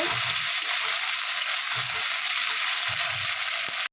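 Chopped tomato with ginger and green chilli paste fries in hot oil, giving a loud, steady hiss close by, with soft scraping stirs recurring every second or so.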